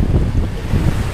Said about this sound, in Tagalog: Pero amihan ang hangin dito ngayon.